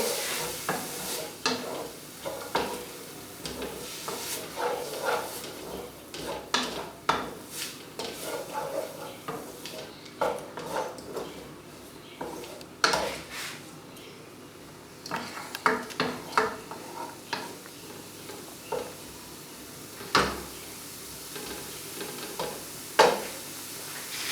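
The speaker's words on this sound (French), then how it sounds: "On va laisser mijoter." Tofu ratatouille simmers in a pan with a low, quiet sizzle, broken by the frequent scrape and clink of a utensil stirring against the pan.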